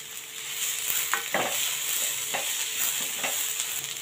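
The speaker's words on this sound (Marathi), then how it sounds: "टोमॅटो पण आपल्याला याच्यामध्ये नरम करून घ्यायचं आहे भाजून" Chopped tomato and onion sizzle in a pan for shev bhaji under a continuous frying hiss, while a spoon scrapes through them in several distinct, evenly spaced stirring strokes.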